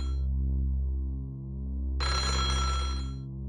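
Telephone in the horror game Otogirisou ringing with a loud electronic tone over a low droning background, one ring burst sounding partway through.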